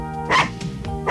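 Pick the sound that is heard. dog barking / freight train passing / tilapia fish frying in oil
dog barking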